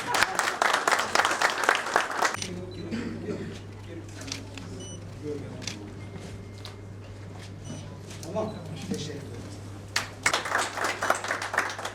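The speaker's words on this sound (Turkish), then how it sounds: "Evet, siz de alkışlayabilirsiniz." An audience applauds at a library handover ceremony, with loud clapping at the start that fades under a speaker's voice and returns strongly near the end.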